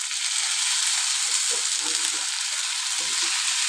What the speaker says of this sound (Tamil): இப்போ இதிலே 2 தக்காளி போட்டுக்கலாம்.